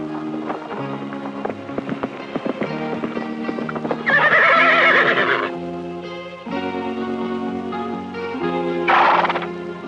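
A roughly 1,000-pound horse used in a film stunt neighs loudly twice, around the middle and again near the end, over steady clip-clopping hooves and a music bed.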